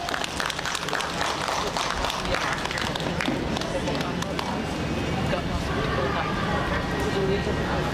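An audience at a panel event applauds in a continuous dense patter of many hands, moderately distant, with voices mixed underneath.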